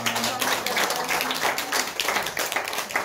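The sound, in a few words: applause in a church service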